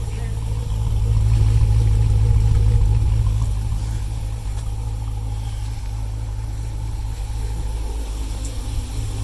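A Dodge SRT 392 V8 with fresh head gaskets idles with a lopey cam, a deep, uneven rumble that swells briefly and then settles into a steady low throb, with no talk over it.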